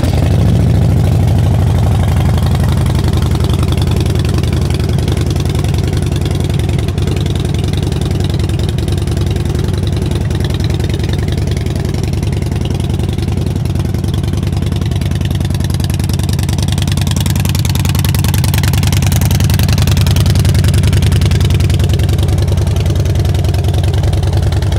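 A used Harley-Davidson Dyna Wide Glide (FXDWG) motorcycle with 4,872 miles idles close by, its heavy V-twin rumble loud, steady and continuous throughout, with no talking.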